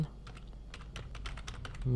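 Rapid keystrokes on a computer keyboard as a command is entered in a command prompt window, a steady run of light, close clicks alone with no talk.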